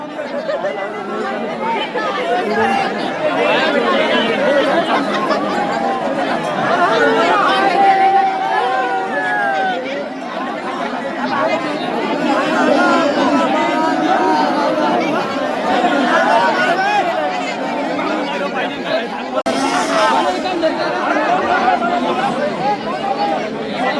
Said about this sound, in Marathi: एवढी गर्दी आहे का काही विचारू नका.